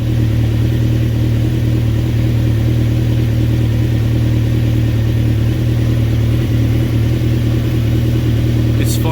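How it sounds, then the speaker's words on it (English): A motorcycle engine runs at a steady idle throughout, a loud, continuous low hum with an even mechanical pulse and no starting moment. "we're good to start the bike"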